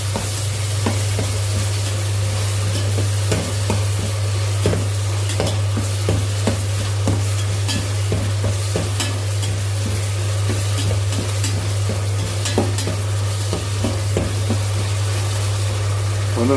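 Ginger and garlic stir-fried in oil in a pan for an eggplant dish, a steady sizzle with repeated spoon scrapes and clinks against the pan over a constant low hum.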